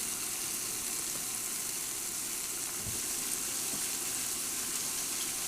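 A butter mix sizzles and fries in a pan on an induction burner, a steady bright crackling hiss that stays loud and close throughout, with no talking.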